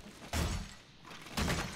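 Sturdy glass in a survival video game takes two heavy, hard impacts about a second apart, each a loud, broad crash-like thud without any shattering.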